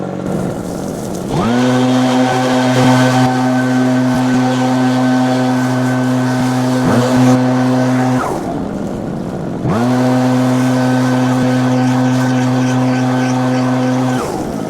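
Echo PB9010T backpack leaf blower, a gas two-stroke unit, roaring loud and close in two long steady bursts, each spooling up then cutting off with a short lull between them.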